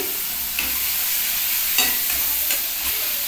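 Spices sautéing in a pan with salt and turmeric, a steady broadband sizzle with occasional scraping stirs of a spoon against the pan, close and continuous for a few seconds with no talking.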